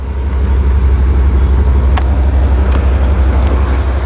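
A Chevy Caprice station wagon idling with a loud, unmuffled exhaust, a steady deep rumbling drone close to the microphone with no talk.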